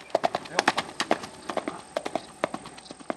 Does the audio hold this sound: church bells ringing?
no